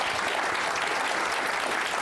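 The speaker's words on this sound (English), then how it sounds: "Let's give Mike another round of applause." An audience at a conversation event with The New Yorker's executive editor bursts into sustained, dense applause, a loud wash of clapping hands filling the whole moment without pause.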